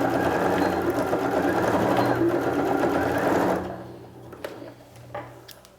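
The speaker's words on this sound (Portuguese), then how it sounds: "agora a gente vai fazer a costura reta com retrocesso" A sewing machine stitches a straight seam with backstitching on a zippered pouch, running loud and steady for several seconds, then stopping, followed by a few quiet handling clicks.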